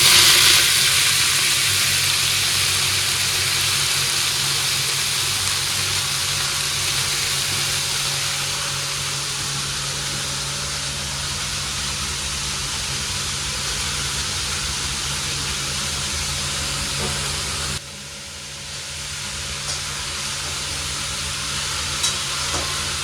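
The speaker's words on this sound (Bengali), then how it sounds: "এবার এর মধ্যে দিয়ে দেবো কেটে রাখা শাকটা।" Chopped greens frying over high heat in a pan with thinly sliced garlic, a steady, loud sizzle and hiss that fades slightly and briefly drops partway through.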